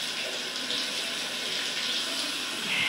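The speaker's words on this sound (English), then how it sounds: "I'm not trying to waste the water, but this is my water pressure." Water runs hard from a tap at strong household pressure, making a steady, loud, close hiss and splash with no pauses.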